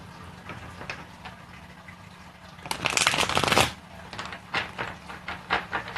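A tarot deck being shuffled, with a quiet riffling patter that builds to a loud, dense burst of card flutter midway, then settles into several shorter shuffles heard up close with no talking.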